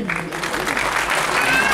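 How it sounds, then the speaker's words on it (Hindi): Audience at a trumpet and saxophone music event applauding as a garland is placed on a portrait, steady crowd clapping with a voice speaking over it. "आपकी तालियां बजती रहें।"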